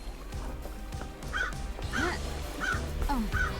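Crow cawing right outside a den, several harsh caws spaced about half a second apart, moderately loud over a busy background of music or game sound.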